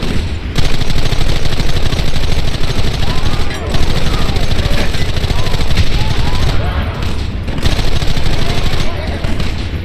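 Gunfire in the western game Red Dead Redemption, loud rapid rifle and pistol shots crackling in dense overlapping bursts throughout, with brief lulls.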